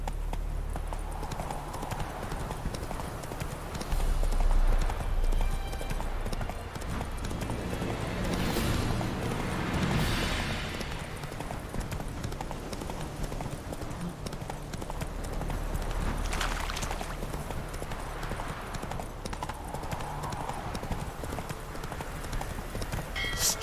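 Roach, a horse in The Witcher 3, gallops in a steady, continuous clip-clop of hooves that holds close and prominent throughout, over a constant low background rumble.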